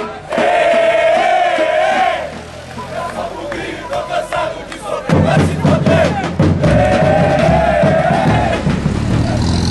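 A football crowd at a Copa do Brasil match between Guarani and Araguaina roars and chants in a stadium, loud and surging, with a thumping burst of noise in the middle.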